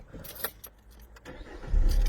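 A Citroën C3 1.4 HDi diesel that had a fuel pressure signal fault cranks and catches near the microphone, with a few light clicks before the engine fires and settles into a loud low rumble at the end.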